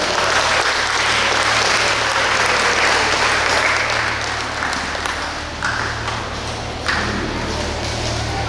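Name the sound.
audience applause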